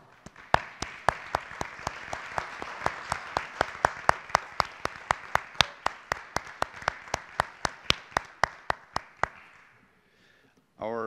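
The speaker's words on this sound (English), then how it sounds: "Please join me in offering our applause as they also stand." Applause at a college honors convocation as honor students stand. Sharp, evenly spaced claps ring out close by over softer crowd clapping, fade out near the end, and are followed by a brief burst of sound.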